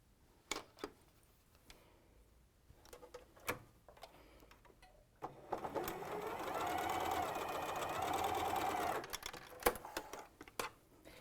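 A sewing machine stitches quilt fabric in a quiet room, a sustained run of rapid mechanical whirring for a few seconds, framed by scattered clicks and light handling taps before and after.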